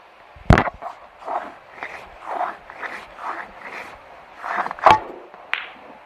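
Snooker cue striking the white ball on a table, followed by a sharp click of balls colliding; a few crisp impacts stand out among soft rolling and room noise, with no talk.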